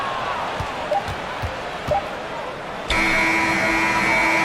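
A loud, sustained end-of-quarter buzzer in an NBA basketball video game cuts in suddenly after faint court noise and commentary, holding steady to the end.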